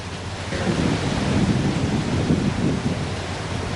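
Steady, dense roar of floodwater rushing through the overflowing Mabitac river after heavy rain, a continuous broadband wash with no pauses.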